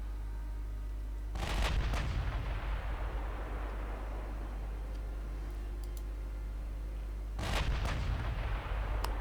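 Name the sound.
battleship aft turret firing in Ultimate Admiral Dreadnought video game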